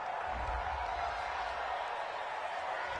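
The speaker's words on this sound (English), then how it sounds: "This home crowd, they're happy with that call." A home crowd at a football game roars steadily after a penalty call on the field, a broad, continuous wash of cheering and noise heard from within the stands with no pauses.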